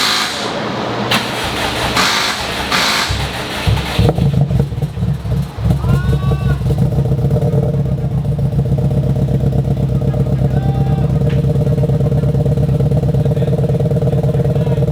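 A car engine cranks with a few rough bursts of clatter, catches, then settles into a steady, fairly loud idle that runs on evenly.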